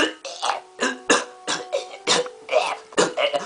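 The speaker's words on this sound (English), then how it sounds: "Or you can do like this, like cough really loud." A person coughs loudly again and again, a rapid series of harsh, close bursts with brief gaps between them.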